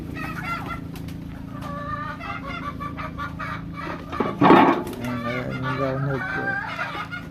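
Roundhead gamefowl chickens clucking and murmuring at feeding time, a steady close flock chatter with one louder burst of squawking midway, over a low background hum.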